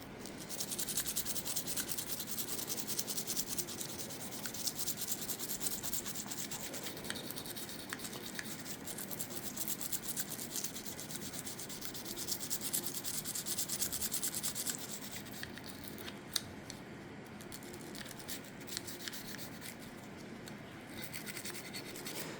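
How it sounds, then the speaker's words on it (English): A brush scrubs an oiled HK VP9SK pistol during cleaning, a continuous close scratchy rubbing with rapid bristle strokes that carries on steadily throughout, quiet but clear. "we're going to start just brushing everything that you can see, everything you've sprayed oil on"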